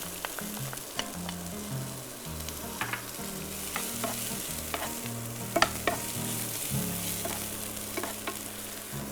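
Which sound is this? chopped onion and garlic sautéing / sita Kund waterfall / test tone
chopped onion and garlic sautéing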